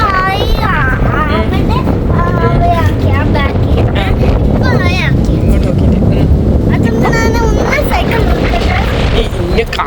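Strong wind blowing outdoors after rain, a loud steady rush buffeting the microphone throughout, with children shouting and adults talking over it.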